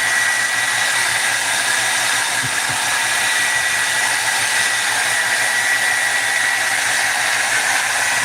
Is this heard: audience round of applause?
no